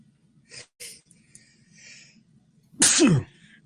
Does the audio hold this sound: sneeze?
yes